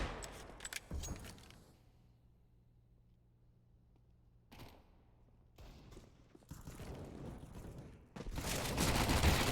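Bursts of gunfire in a Counter-Strike match on the Mirage map: a sharp volley at the start, a quiet stretch with a low hum, then a lone shot followed by repeated firing that grows louder and denser toward the end.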